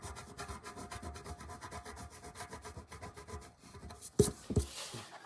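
A coin scratching off a Treasure of Sierra Madre lottery scratch-off ticket, giving rapid, rhythmic rasping strokes close up, followed by a couple of sharper scrapes at the end.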